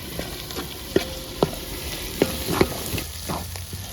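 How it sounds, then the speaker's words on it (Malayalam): Onions and shallots sautéing in hot oil while a spoon stirs them, giving a constant close sizzle with a handful of distinct clinks and scrapes against the pan. "സവോളയും കൊച്ചുള്ളിയും കൂടി ഇട്ട് കൊടുത്തേക്കാം. നല്ലോണം ഒന്ന് വഴന്നിട്ട് ഇതുപോലെ ഒന്ന് ഇളക്കി കൊടുക്കും."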